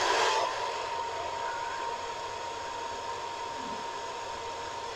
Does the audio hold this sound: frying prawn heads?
no